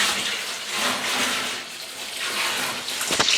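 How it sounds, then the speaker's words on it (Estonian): About 22 litres of water run into a container for home brewing beer, a loud, continuous rushing and splashing fill with slight swells, ending in a few clunks. "Vett tuleb lisada umbes täpselt 22 liitrit."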